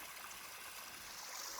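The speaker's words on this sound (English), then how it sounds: "This is the second big waterfall I've seen since I was chastised for not getting water." Steady broadband rush of a big waterfall along the Pacific Crest Trail, continuous and even throughout with no voices.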